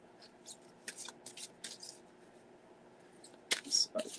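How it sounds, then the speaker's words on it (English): Tarot cards shuffled by hand during a live reading, giving soft intermittent riffling and flicking bursts with brief pauses and a few sharper snaps near the end. "So I'm just going to go and shuffle some more cards and see what they have to say."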